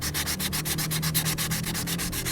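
Wet sanding repair work on a velomobile's gelcoat, a steady rhythmic rasping of abrasive paper rubbed back and forth in quick even strokes, close and continuous with no talk.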